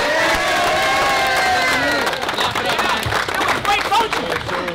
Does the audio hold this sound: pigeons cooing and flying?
no